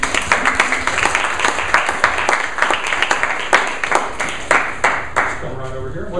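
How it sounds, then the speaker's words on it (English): Audience applause greets a woman volunteer stepping up to help at a magic book-test show, with a sparse scatter of claps rising over room noise and a voice breaking in near the end. "Give her a round of applause"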